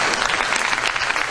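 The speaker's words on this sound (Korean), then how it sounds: "우리 김영삼 전 대통령에서 박수 한번 쳐주십시오." An audience applauds a former president at a Korean political talk event, a dense burst of steady clapping heard close, brief and unbroken, with no voices over it.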